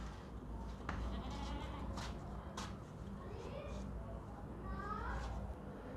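A tall, large, heavy goat bleats a few times at a livestock sale, brief wavering cries over people talking nearby.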